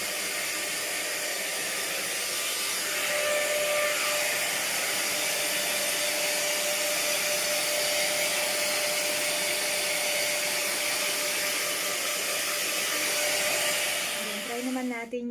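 A Cien Beauty hot-air hair styler from LIDL, an airflow styling tool, runs with a steady loud whooshing roar that continues throughout and ends with a few clicks.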